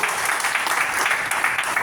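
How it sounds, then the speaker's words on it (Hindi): Dense, steady crowd applause fills a hall during an Agarwal community association oath ceremony in Visakhapatnam, loud and continuous without a break. "जोरदार तालियां बजाइए"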